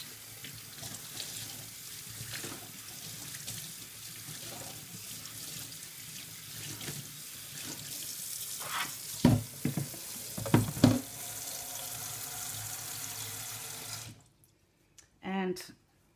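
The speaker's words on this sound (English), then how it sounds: "I'm going to rinse it off with cold water." A kitchen tap runs steadily as cold water rinses a piece of freshly dyed fabric, with a continuous close splashing hiss, a few louder splatters as the cloth is handled, then the flow stops.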